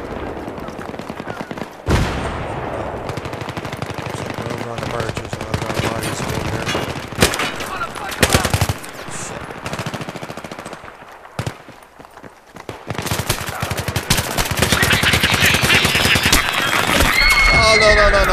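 Sustained gunfire from the first-person shooter Battlefield 3 rattles through a chaotic battle, with dense bursts and automatic fire coming in waves and swelling louder toward the end, while a player talks over the action.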